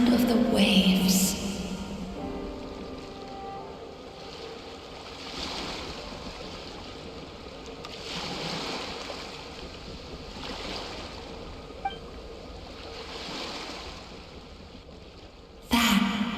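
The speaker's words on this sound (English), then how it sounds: "Go to where you can hear the sound of the waves." Ocean waves in the video game Dream Eater's Melancholia II: soft, steady surf washes in slow recurring swells, faint and airy, with a brief brighter sound at the start and end and no talking.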